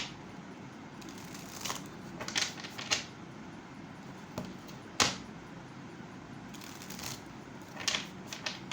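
Osho tarot cards being shuffled, a quiet run of soft riffling bursts and light card slaps recurring at irregular intervals, with no talk.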